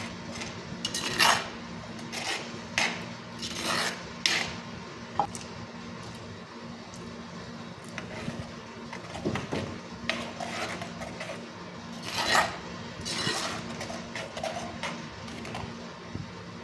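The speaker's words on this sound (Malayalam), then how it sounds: "സ്പൂൺ കൊണ്ട് ഒന്ന് നെക്കി ഉടച്ച് നോക്കാം കേട്ടോ" A spoon mashing cooked taro inside a pot, with scattered scraping and knocking strokes, some sharper taps, over a low steady background hum.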